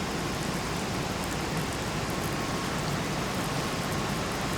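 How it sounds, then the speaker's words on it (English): Steady rain comes down outside an army aircraft hangar at a military aviation museum, an even, moderately faint hiss of falling water with no voices or other sounds over it. "I'm not sure if the rain is coming out, but it is coming down."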